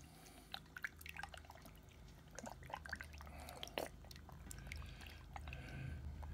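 Fingers swish and rinse the inside of a squid tube in a bowl of water, giving soft wet splashes, drips and squelching close up, irregular and quiet, with no talking.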